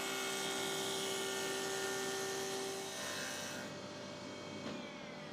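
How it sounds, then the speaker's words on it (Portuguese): An iTech 260SS jointer planer planes a piece of spruce with a 1 mm cut, a loud steady whine and whir of the cutterhead, its tone shifting and easing as the board passes through. "Eu ajustei a mesa de entrada Para 1 milímetro e passei um pedaço de abeto."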